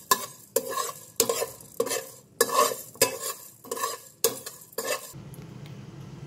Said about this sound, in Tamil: ஒரு ஸ்பூன் தனியா, அப்புறம் கொஞ்சோண்டு ஜீரகம், 4 கிராம்பு, 4 இதெல்லாம் சேர்த்து லைட்டாக கலர் சேஞ்ச் ஆகிற வரைக்கும் வறுத்துக்கோங்க